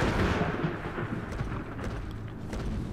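A lightning bolt spell cast in Legend of Grimrock lands as a loud, rolling thunderous crack, with a heavy, rumbling roar that holds steady for about three seconds.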